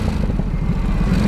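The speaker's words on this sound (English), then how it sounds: "The engine is a little bit clattery sounding, can be." A Ducati Supersport 950 motorcycle engine with desmodromic valves idles close up, giving a loud, steady low rumble with a slightly clattery, uneven texture.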